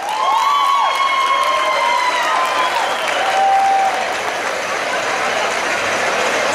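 Applause and cheers from the crowd at a bull-riding rodeo tournament, a loud sustained ovation lasting the whole stretch, with whistles or shouts rising over the clapping.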